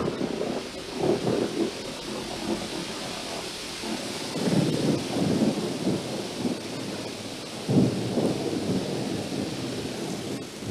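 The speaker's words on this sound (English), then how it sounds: "But suddenly, a storm began to blow up." Rolling thunder rumbles repeatedly through a heavy storm on a riverbank, with a steady wash of torrential rain beneath and several louder, booming peaks.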